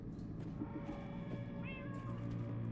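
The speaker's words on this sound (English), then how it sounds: "That almost sounds like... cats?" Cats meow in the Minecraft Story Mode video game, a few faint, wavering cries heard over a low game background hum.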